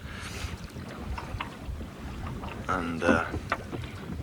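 Wind buffets and rumbles around a boat anchored off Double Island Point in a rolling swell. There is a steady noisy gust background, and a brief voice and a few creaks and knocks come through it.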